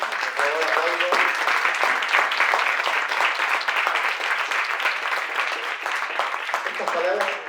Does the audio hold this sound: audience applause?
yes